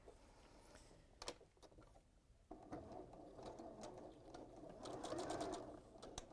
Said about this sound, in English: So now I'm going to sew these side borders on.